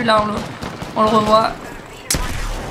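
Pump shotgun in Apex Legends, one sharp blast near the end that follows a stretch of excited talk and layered game sounds.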